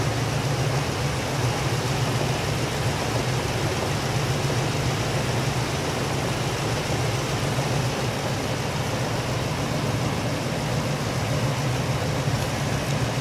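A GM LS3 430 hp crate engine runs on a dyno through a 2.25-inch exhaust, a loud, steady, unbroken roar with a low droning hum and no talk.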